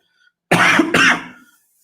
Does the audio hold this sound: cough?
yes